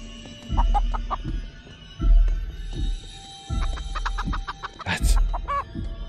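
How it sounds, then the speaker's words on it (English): A giant chicken in the video game Chicken Feet clucks in loud, low, repeated bursts roughly every second and a half, with sharper squawks near the end and no talk. "giant chicken must be going that way"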